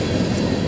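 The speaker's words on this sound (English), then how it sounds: "There's the choo-choo-choo! Bye, train!" A train rumbles past close by, a loud steady low roar with rattling that fills the whole moment with no voices over it.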